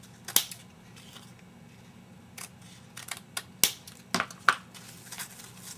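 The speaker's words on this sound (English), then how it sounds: "Then you simply just cut off the excess tails." Scissors snipping the excess ribbon tails off a bow, a handful of sharp, close clicks and snips spaced irregularly over a quiet background hum.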